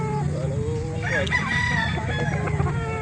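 Several chickens crow and cluck at a busy chicken market in Calauan, Laguna, a long crow rising midway over steady clucking and a dense background murmur of the crowd.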